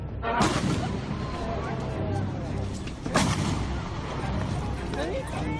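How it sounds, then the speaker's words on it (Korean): A sharp gunshot cracks out at an outdoor election campaign speech in a city centre, with a second sharp report about three seconds later, both over steady crowd murmur and street noise. "총성이 들린 건 연설을 시작한 지 2분여가 지났을 무렵."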